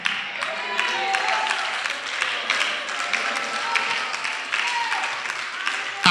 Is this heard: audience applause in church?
yes